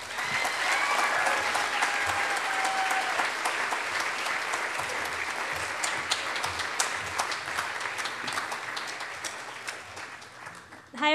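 A convocation audience claps warmly to welcome a speaker, with dense, sustained applause that fills the room for several seconds before tapering off near the end.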